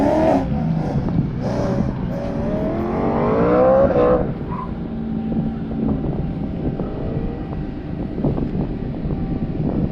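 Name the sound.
Porsche GT3 RS race car finishing its autocross run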